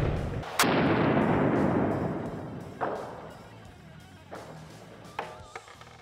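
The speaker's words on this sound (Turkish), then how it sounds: "güvenlik önlemlerimizle birlikte çantayı vurmaya çalışacağım" A single loud gunshot fired at a backpack in a durability test booms sharply and decays, followed by a few fainter thuds and impacts.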